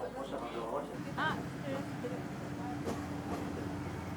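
A retro-style train on the Chichibu line toward Mitsuminaguchi Station rumbles steadily at low volume from inside the carriage, with a continuous hum and faint rattles while people talk in the background.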